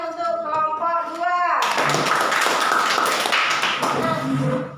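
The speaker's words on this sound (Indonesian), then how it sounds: "Mari kita berikan tepuk tangan untuk kelompok 2." A classroom group claps in applause for a student team, a dense, loud burst of many hands that starts suddenly after a short stretch of speech and carries on steadily to the end.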